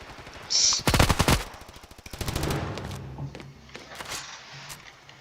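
Gunfire in the mobile shooter Standoff: a short sharp shot, then a rapid automatic burst followed by a second stuttering volley, loud and close, with scattered fainter shots trailing off.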